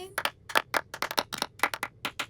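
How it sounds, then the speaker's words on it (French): A short burst of hand clapping, several sharp claps in quick irregular succession, close and fairly light, like a small group applauding. "Un tonnerre d'applaudissements pour tout le monde."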